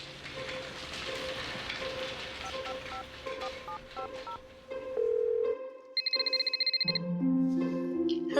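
A phone is dialed with a string of short evenly spaced tones, then a burst of rapid beeps and a ringback tone follow, with rain-like hiss beneath.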